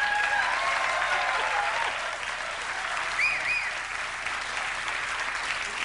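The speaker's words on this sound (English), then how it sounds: "I don't think the applause was necessary, actually." Studio audience at a 1989 Late Night with David Letterman taping breaks into steady, moderately distant applause that carries on evenly, easing slightly in loudness toward the end.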